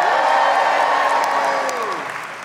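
Graduation ceremony audience applauding and cheering, a dense wash of clapping with tonal voices and whoops sustained throughout and slowly fading toward the end.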